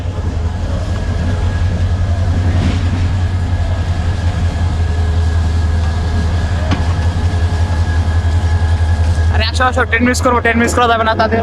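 Train coaches roll into a station with a loud, low continuous rumble and rattle, nearby and steady, and voices break in toward the end.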